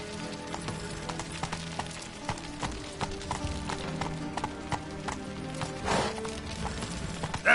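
Roach the horse gallops in The Witcher 3, hooves clip-clopping in a steady, quick rhythm at moderate volume over a soft background bed, with a brief louder scuffle near the end.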